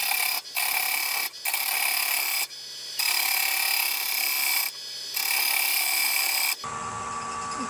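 A mesquite bowl blank spins on a lathe at 575 RPM as a gouge scrapes and cuts the wood in repeated loud rasping passes, each broken by brief pauses, close up with no talking.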